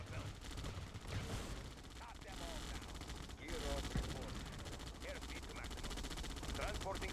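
Gunfire attacking an ore miner in Red Alert 2, rapid bursts of shots and explosive cracks scattered across a busy battle din, fairly faint, with spoken unit alerts mixed in.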